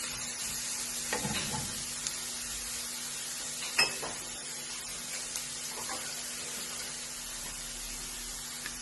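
Onions fry in a pan with a soft, continuous sizzle, quiet and close, broken by a few small clinks and stirring scrapes.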